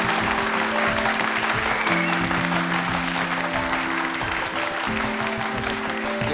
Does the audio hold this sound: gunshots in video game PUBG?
no